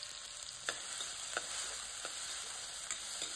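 Onion, garlic and green chilli frying in hot oil for a dhaba-style potato and cabbage dish, giving a steady, fairly faint hiss with a few soft stirring clicks and no voices.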